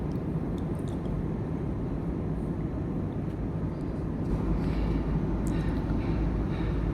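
Steady, loud broadband cabin roar of an airliner cruising above the clouds on a Hyderabad to Mumbai flight, a continuous even drone with no speech.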